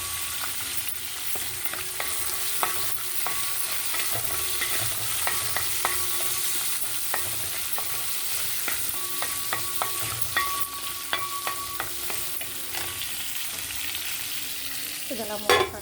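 Curry leaves and green chillies fry in a pan with a steady, close sizzle, broken by frequent scraping stir strokes and small clinks of utensil on metal, with no talking over it.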